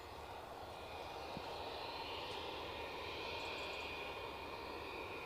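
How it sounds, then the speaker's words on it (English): A Delta Airlines Boeing 767-300 arriving from Boston at Edinburgh Airport drones with a steady, distant jet engine rumble and a thin high whine, faint and unbroken throughout. "Inbound from Boston, we have Delta Airlines 767-300."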